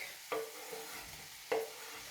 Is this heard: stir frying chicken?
yes